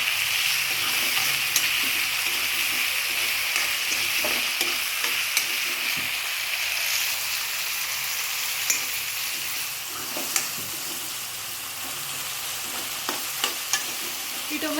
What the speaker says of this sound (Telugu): ఈ టొమాటోస్ని అయితే ఆయిల్లో ఒక 2 మినిట్స్ మగ్గనిచ్చుకోవాలి